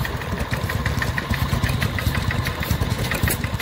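A vintage stationary engine, a WD-1, chugs steadily at a rally while driving a wood-turning lathe, with a loud, even, rapid thumping beat close by.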